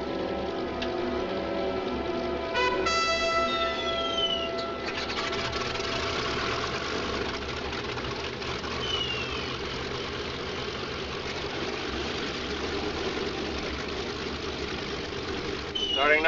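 Aircraft engine starting and settling into a steady idle on a 1947-era plane, a broad continuous roar with a rising whine near the start, voices speaking over it throughout.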